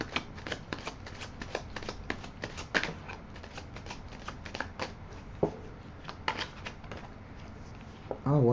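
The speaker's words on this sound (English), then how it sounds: "I'm going to shuffle just a little bit more, and then I'm going to get into the reading." Tarot deck being shuffled by hand at close range, a run of soft irregular riffling and slapping card sounds, with a brief voice at the very end.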